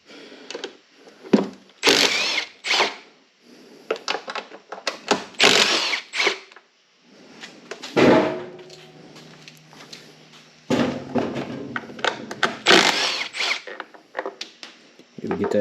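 Small cover bolts being backed out of a Troy-Bilt lawn mower with a 5/16 socket: bursts of ratcheting clicks and metal scraping, close and intermittent, with short pauses between runs.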